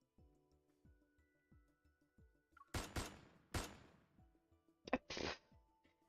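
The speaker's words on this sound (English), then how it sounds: "A gunshot explodes in the empty reception hall." In the Love and Deepspace video game, a gunshot rings out in an empty reception hall: two loud, sharp blasts with echoing tails, then another pair, over a faint rhythmic low thudding background.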